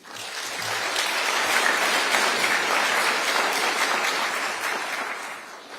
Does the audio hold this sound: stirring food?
no